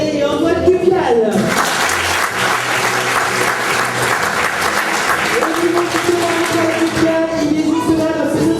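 An audience at an amateur theatre show claps loudly and continuously, dense applause from a full room that swells after a brief lead-in.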